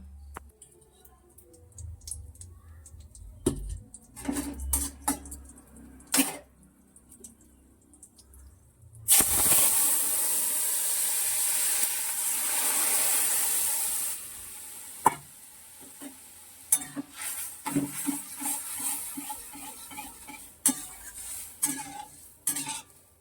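Hot oil hisses loudly in a pan for pointed gourd, a sudden strong sizzle lasting several seconds, framed by close clinks and scrapes of utensils before and after.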